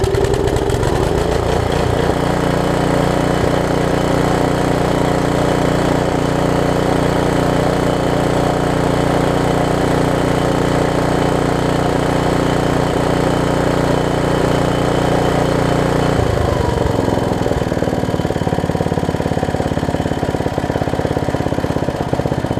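A 1980s 5 hp Briggs & Stratton tiller engine that has just had fuel-system repairs runs loud and close, with a steady rapid chugging roar that drops off in pitch and fades near the end as it shuts down.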